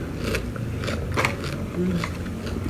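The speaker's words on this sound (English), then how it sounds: "I love my fritters that is crunchy." Crisp biting and chewing of freshly made crunchy fritters, close to the ear, with several distinct crunches across a couple of seconds over faint room noise.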